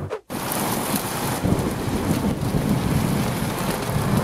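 Steady rain pouring down outdoors near the Slovakia Ring racetrack, a dense, continuous hiss close by with no voices.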